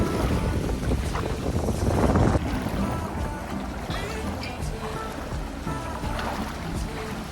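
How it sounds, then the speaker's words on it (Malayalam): Sea at a beach in Krabi, Thailand: a steady, broad wash of water and surf close by, with wind buffeting the microphone throughout and no clear voices. "ഇത് കടലാണ് കേട്ടോ, ബീച്ചിൻ്റെ ഭാഗത്താണ്"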